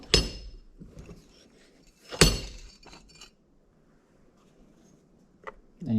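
Metallic taps knock a piston out of a brake master cylinder on an 80 Series Land Cruiser during a rebuild: two sharp clinking strikes close up, then fainter ticks and one more light tap near the end.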